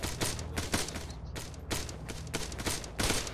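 Rapid bursts of automatic rifle fire crackle through an Arma firefight in a ShackTac squad game, loud overlapping shots in quick uneven volleys with short gaps, no talk over them.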